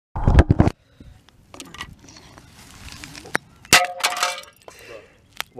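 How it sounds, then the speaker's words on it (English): Hammers smashing a plastic pencil sharpener, a series of sharp clanging, cracking hits with clinking fragments, loud and close, irregular strikes across the span. "two people with hammers literally smashing a pencil sharpener"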